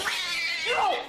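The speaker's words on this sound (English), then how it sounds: "she sees a furious house cat guarding the top of the steps. The angry, hissing animal descends upon her within seconds" An angry house cat yowls in a single drawn-out, harsh caterwaul, loud and close, with no talk over it.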